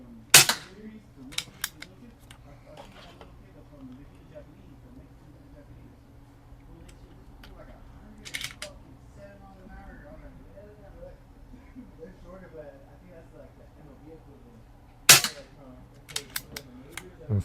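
Sharp, dry snaps from an Umarex Zelos .25 air rifle fitted with a moderator, several scattered shots each followed by quick pellet-strike ticks, with a quiet voice and low hum in between.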